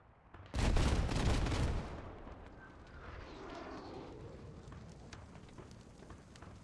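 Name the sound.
Su-25 airstrike hitting a hab, from a video game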